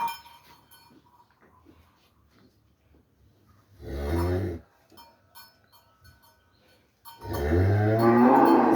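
Cattle on a breeding farm moo twice, a short low call followed later by a longer, louder one, with quiet rustling and faint clinks between them.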